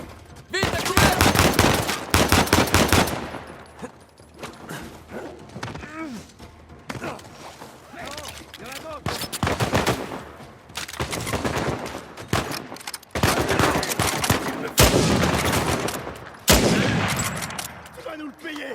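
Uncharted 4 video game gunfire: bursts of automatic weapon fire and sniper shots ring out loud and repeatedly, with rapid volleys separated by short pauses and faint voices now and then.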